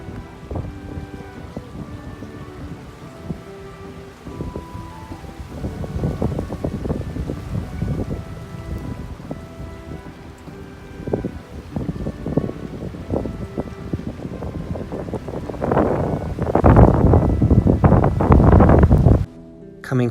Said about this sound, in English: To get there, we crossed over this river. I'll just let you listen to it for a moment.